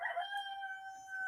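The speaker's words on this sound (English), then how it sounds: "that's my rooster in the background" A rooster crows in the background, one drawn-out tonal call that holds steady and then trails off, moderately distant and heard on its own without talk.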